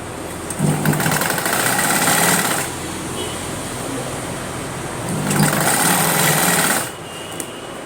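A sewing machine stitches a doubled half-inch folded hem on a silk pattu lehenga, running in two steady whirring bursts with a short pause between, loud and close.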